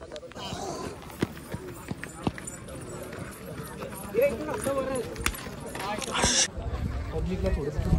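Bullocks' hooves pound along at a bullock cart race in Gagode, Pen, a rapid galloping clatter beneath constant crowd chatter and shouting, with louder bursts toward the end.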